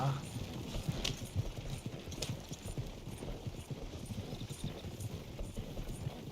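A horse-drawn wagon approaches in Red Dead Redemption 2, its hooves clip-clopping in a steady, continuous rhythm at moderate distance through the whole stretch.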